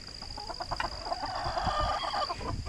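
Near at hand a white rooster and other chickens on a farm give a stream of overlapping clucks and squawks, with a steady high electrical whine running underneath.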